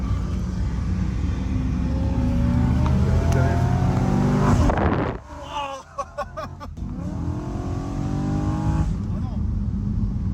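A BMW M3 E93 convertible accelerates hard through quick gear changes, the engine note climbing, cutting out briefly on a shift, then climbing again. People talk over the engine.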